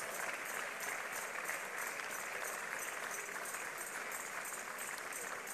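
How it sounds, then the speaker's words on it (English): A church congregation claps steadily at a Sunday morning service, a dense, continuous wash of many hands heard from a little distance, with no pauses throughout. "Keep clapping. We still have people coming out."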